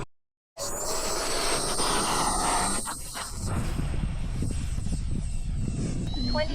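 Small airplane at Fritz Field taking off down the runway, its engine a loud steady roar after a short silence, holding strong and close with wind-like buffeting throughout.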